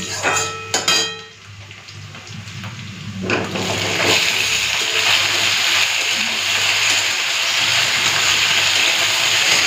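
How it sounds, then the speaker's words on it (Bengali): Cut vegetables, including eggplant, drop into hot oil with fried onion and crushed garlic: clattering utensil knocks first, then a loud, steady sizzle takes over and holds continuously to the end. "তো এই যে পেঁয়াজ রসুনটা ভাজা ভাজা হয়ে গেছে, এখন দিয়ে দেবো কেটে রাখা সবজি।"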